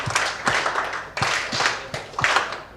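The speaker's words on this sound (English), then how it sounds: "Let's give him a power clap" An audience performing a power clap at an artificial intelligence community meetup: a few loud, unison claps spaced about half a second apart in repeated bursts.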